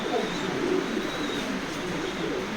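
Racing pigeons in a loft cooing softly, a continuous low murmuring coo with faint chirps, close by, under a steady background hum.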